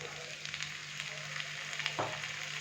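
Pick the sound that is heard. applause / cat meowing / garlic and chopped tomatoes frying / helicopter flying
garlic and chopped tomatoes frying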